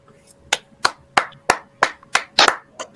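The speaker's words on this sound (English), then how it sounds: "All I can do is fucking clap" A single person claps slowly and close by, about nine sharp claps at a steady pace, with faint background hum between them.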